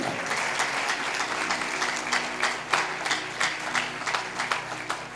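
Loud applause from an audience at a sermon by Sant Sunder Lal Ji, dense sustained clapping with sharper bursts throughout, no voices over it.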